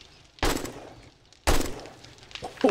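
Enemy gunfire in 7 Days to Die: two sharp, loud single shots about a second apart, with a smaller crack near the end over a quiet background.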